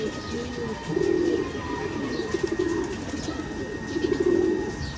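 Pure Ferozpuri pigeon in a Bangladeshi home loft, repeated rolling coos in three bursts, close and moderately loud over a steady background hum.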